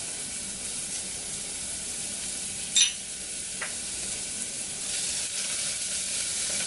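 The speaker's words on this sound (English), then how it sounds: "Once the oil is hot, which one it is right now, I will add the onions," Onions and garlic frying in hot vegetable oil, a steady close sizzle and hiss throughout with a couple of brief louder spits, no talking.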